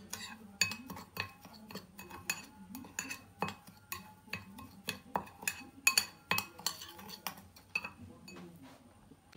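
Spices being stirred together with ginger in a small bowl, a steady run of light utensil taps and clinks against the dish, close and quiet, with no voices.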